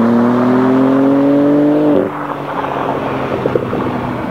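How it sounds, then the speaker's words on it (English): Exhaust of a 2024 BMW M4 Competition, a loud, rising engine note held for about two seconds, then cutting off into a softer burble with a few faint pops. "it kind of gives you this cool back burble that you hear, some pops that's not overly aggressive"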